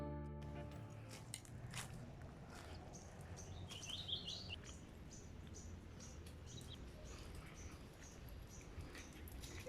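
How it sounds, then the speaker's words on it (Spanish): Small birds chirp intermittently in an eco park in Los Alcázares, Colombia, a brief cluster of tweets rising over steady outdoor ambience and rustling, moderately distant. "como siempre, los pajaritos acompañando nuestro camino, una maravilla"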